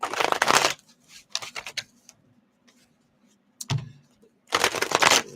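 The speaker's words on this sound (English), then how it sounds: "Shuffle these up a little more." Tarot cards are shuffled in several quick riffling bursts, close and crisp, separated by short quiet gaps.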